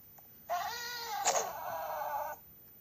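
A single drawn-out, loud electronic meow from a black cat character in a Piggy-style horror game jumpscare, lasting about two seconds with a sharp click partway through, heard alone.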